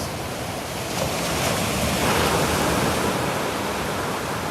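Sea surf at Mundesley on the North Norfolk coast rolls as a broad, continuous wash of noise, swelling slightly midway, with waves breaking somewhere beyond the shallows and no talking.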